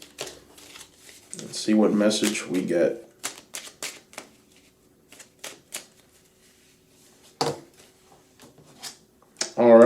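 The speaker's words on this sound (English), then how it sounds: "let's shuffle" Tarot cards are shuffled by hand in a series of quick riffling bursts, loudest near the start, followed by scattered soft card taps between stretches of a person talking.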